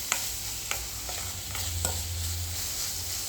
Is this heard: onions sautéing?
yes